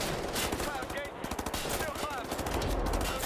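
Rapid turret gunfire rattles through a firefight in Wolfenstein The New Order, fast bursts of sharp shots repeating over a loud, busy battle with a voice briefly heard.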